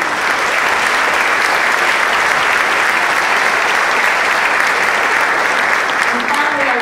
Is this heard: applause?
yes